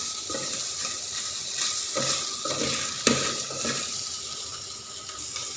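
Pork belly stir-fries in a pan, rendering its fat, with a steady sizzle under occasional scraping and stirring clatter, one sharper clink standing out midway; no voices.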